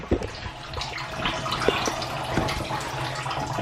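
Alkaline water streams from a countertop water ionizer spout into a kitchen sink, a steady splashing rush with a few soft drips and clinks, close and unbroken.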